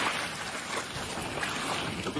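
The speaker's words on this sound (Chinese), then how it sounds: "这个现在这个水的浪还是太大，而且风也比较大。" Wind and choppy waves wash around a BYD Yangwang U8 SUV floating in water, heard as a constant broad rushing roar with gusty wind buffeting the microphone.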